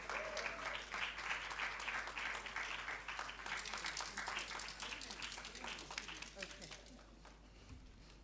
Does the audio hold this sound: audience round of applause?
yes